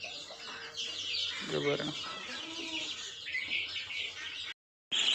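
Young White Pekin ducklings and Silkie chicks, some a day or two old and others about 25 days old, chirp in a constant high-pitched chorus nearby, with a brief spoken word partway through.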